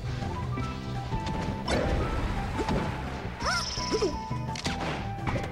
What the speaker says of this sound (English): Zelda's sound effects are like...